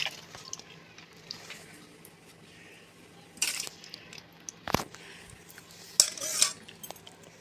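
A spoon scrapes and clinks against a pot as meat is spooned onto a layered Bengali-style home-made chicken and potato biryani, producing faint, sporadic metallic taps with a few louder knocks.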